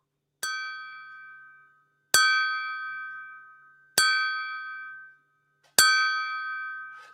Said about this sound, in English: That is a high quality glass that makes a noise that beautiful.